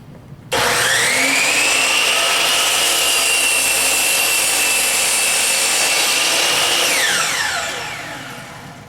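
A radial arm or miter saw set to a 15-degree angle cuts through wood. The blade spins up abruptly to a loud, steady whine that holds for about seven seconds, then winds down and fades.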